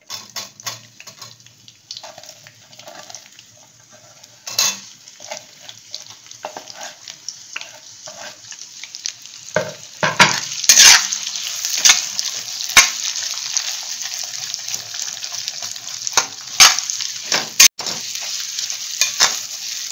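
Sliced onion sizzles in hot oil in a pan while being stirred, with scraping spoon strokes and occasional clinks of cookware, close and steady with no talking.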